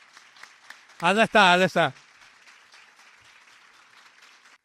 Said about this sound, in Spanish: les voy a pedir un aplauso para Victoria Arcamone